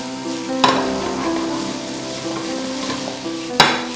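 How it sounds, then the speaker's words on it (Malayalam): Tomato cubes frying with fish roast masala for a Kerala-style neymeen roast, a close, steady sizzle with two sharp spoon scrapes against the pan, no voices. "തക്കാളി നമ്മൾ ജസ്റ്റ് ഒന്ന് കുക്ക് ചെയ്തെടുക്കുകയുള്ളൂ"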